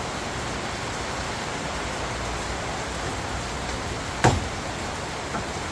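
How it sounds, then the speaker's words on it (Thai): Steady, dense rain hissing evenly throughout, with a single sharp knock near the end. "ฝนตกแล้วจ้ะ"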